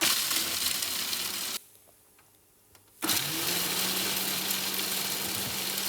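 An electric grinder coarsely grinds cooled nuts. It gives a loud, steady whirring roar, cuts out for about a second and a half, then starts up again and runs on.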